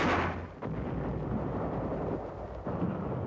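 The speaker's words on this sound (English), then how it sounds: "Our troops employ a captured Jap knee mortar." Wartime combat in 1944, with troops firing a captured Japanese knee mortar: a loud, boomy blast at the start decays into a rumbling wash, and a second dull thump lands near the end, harsh and distorted.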